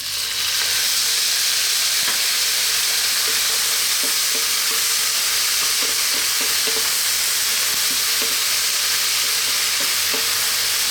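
Vegetable fried rice sizzles loudly and continuously in a hot pan as soy sauce is added, with a steady hiss and scattered light scraping taps from stirring, and no talking.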